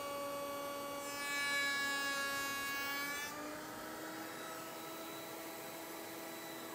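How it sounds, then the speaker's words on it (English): A router fitted with a rail and stile bit spins up to a rising, steady high whine, then drops in pitch as it cuts across the end grain of a wooden test piece on a sled in one smooth pass. "Now make a test cut, starting the router and cutting across the end grain in one smooth pass, feeding the sled from right to left."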